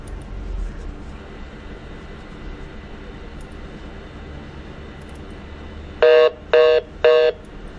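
Three loud, evenly spaced telephone keypad tones near the end as a number is dialed to call back, after several seconds of quiet room hiss.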